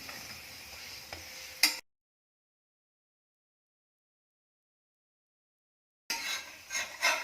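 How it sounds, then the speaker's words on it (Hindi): A gobi paratha fries in oil on a hot pan while a spatula presses down on its uncooked side. Close, steady sizzling stops abruptly for several seconds, then resumes with scraping and pressing bursts. "जो साइड कच्ची है उसे ऐसे पलटे से दबा के पका लेंगे।"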